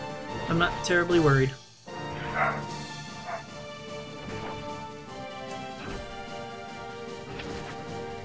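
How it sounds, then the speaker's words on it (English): A dog barks in the background at home while someone talks over a game, with a cluster of loud barks and yips early on, then fainter intermittent barking under continued speech. "Apologies if you hear any barking."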